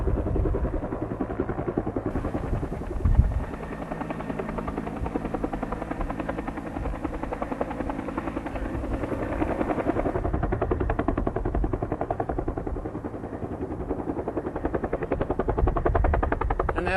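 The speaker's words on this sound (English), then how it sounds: "And the helicopter right there," A firefighting helicopter over a wildfire drones steadily throughout with a dense, chopping rotor thrum, loud and sustained, with a brief knock partway through.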